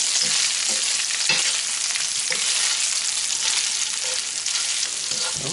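Bacon for tartiflette fries in a pan with a loud, continuous close-up sizzle, punctuated by scattered crackles and light scraping as it is moved around, with no talking.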